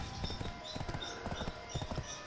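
Horse hooves clip-clopping in the video game Black Desert, a steady fairly quick rhythm of soft thuds repeating throughout, moderately quiet over a continuous ambient hum.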